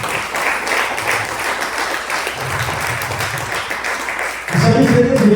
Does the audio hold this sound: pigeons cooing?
no